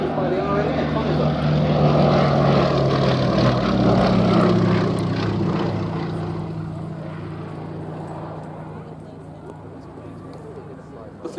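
A Westland Lysander propeller aircraft at a military airshow drones loudly overhead, its engine and propeller roar swelling and then slowly fading as it moves away. A commentator talks over the sound.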